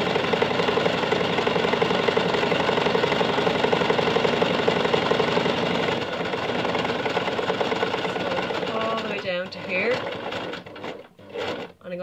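A sewing machine running a straight stitch on fabric for a wire headband, humming steadily up close and then slowing and stopping with short bursts near the end.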